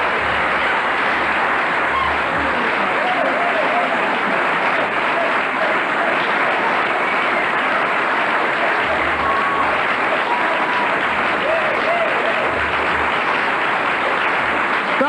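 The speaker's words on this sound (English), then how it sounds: "listen to how long that applause goes on" Sustained applause from a large crowd, a steady dense wash of clapping that continues without letup for the full length.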